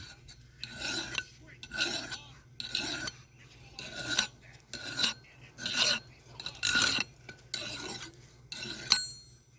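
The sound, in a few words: sharpening a homemade forged blade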